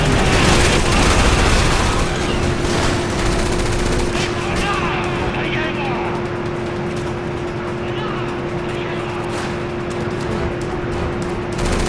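Sustained bursts of gunfire from the video game Resident Evil 6, with rapid shots layered over engine rumble and a steady hum through the whole stretch, loud and continuous.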